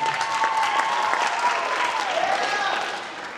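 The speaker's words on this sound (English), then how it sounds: "So can you give her a round of applause?" An audience at a Wekiva High School orchestra concert claps steadily for a student, the dense applause holding at full strength for a few seconds before thinning at the end, with a faint tone lingering beneath.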